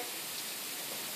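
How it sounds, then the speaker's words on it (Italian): Rain pours down in a soft, even hiss that stays constant and fairly faint for the whole short stretch, with no voices over it. "ora sta piovendo, attenzione, si sente molto piovere"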